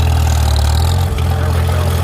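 A tractor engine drones steadily while planting seed, then dips briefly as it shifts into third gear and settles back into a loud, close, continuous rumble.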